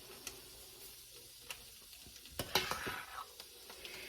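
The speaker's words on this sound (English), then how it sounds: "I'm going to go ahead and put them into the cheese sauce and stir that up" Cooked ramen noodles being stirred into cheese sauce: soft, wet squelching and light spoon clicks against the pot, quiet and close, busier toward the end, with no talking.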